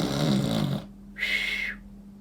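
A storyteller's voice imitates snoring while reading a children's bear picture book aloud at a library storytime: after a short stretch of narration, a single breathy, hissing snore rises and fades, close and moderately loud over a steady low hum.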